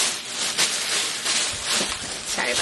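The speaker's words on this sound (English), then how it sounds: "Sorry about the bag noise." A plastic shopping bag from a Goodwill thrift haul crinkles and rustles continuously at close range, with bursts of louder crackling.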